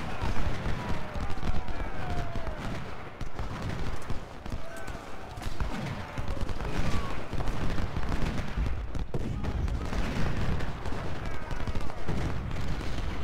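Infantry musket fire rattles in steady, overlapping volleys in the Civil War strategy game Ultimate General: Civil War, a sustained battle din heard under ongoing talk.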